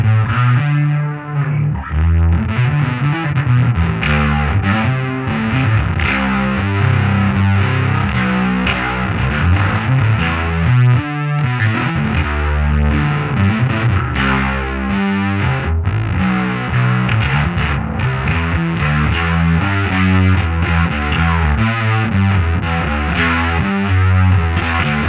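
An Ashdown Geezer Butler Pedal of Doom producing a heavy, distorted, fuzzy bass tone, played continuously as thick riffing for about twenty-five seconds, loud and unaccompanied by speech.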